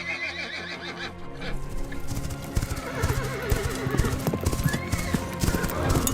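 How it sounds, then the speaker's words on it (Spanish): Horses gallop with steady clip-clop hoofbeats and occasional neighs and whinnies, loud and continuous, building toward the end in a sound-effect style mix. "se escuchan como caballos que vienen a galope"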